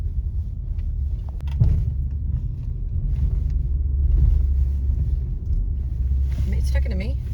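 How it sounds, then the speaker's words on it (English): A car rolls onto a ferry bound for Skye, a steady low rumble of engine and hull with occasional knocks and wind buffeting, continuous throughout. "All right, we are driving onto the ferry."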